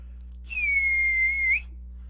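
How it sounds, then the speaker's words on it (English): During a Dungeons and Dragons session, a single steady high-pitched whistle holds one tone for about a second, rising slightly at the end, clear over a low hum. "You guys hear a sort of high-pitched whistle"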